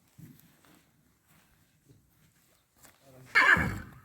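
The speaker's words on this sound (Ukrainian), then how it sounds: "Приїхали кобилки. Жеребці нервують." A draft horse stallion lets out a loud, close neigh near the end, after soft hoof shuffles and quiet stable sounds.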